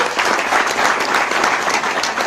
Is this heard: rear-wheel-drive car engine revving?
no